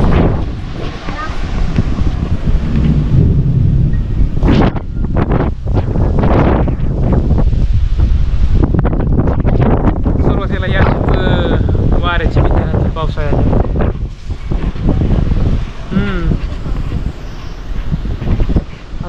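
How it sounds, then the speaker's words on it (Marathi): Strong storm wind gusting through trees, blowing loudly and steadily the whole time with buffeting on the microphone, while people talk over it. "पाऊस कमी बरं का पण वारं ती जास्त"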